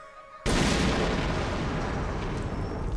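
A sudden loud bang bursts out after a brief quiet moment, followed by a dense crackling roar of firecrackers that keeps going without letting up.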